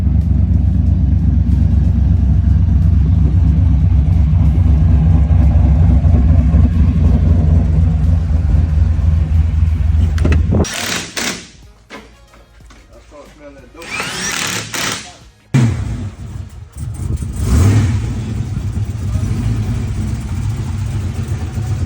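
A GMC work truck's 6.0 LS V8, due for new head gaskets, runs with a loud, steady low rumble for about ten seconds, then drops away to quieter, intermittent noise with short bursts and possible talking.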